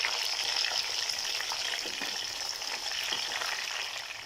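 Stuffed bitter gourd (karela) frying slowly in oil over low heat in a pan, giving a steady, even sizzle that stays constant throughout with no talk.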